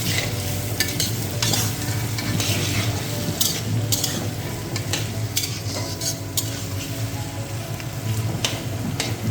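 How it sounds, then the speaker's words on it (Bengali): Sliced onions with garlic and bay leaf frying in oil until reddish for a mutton curry: a steady, dense sizzle close by, broken by frequent scraping clicks of a spatula stirring the pan. "পেঁয়াজগুলো লাল লাল হয়ে ভাজা হয়ে গেছে"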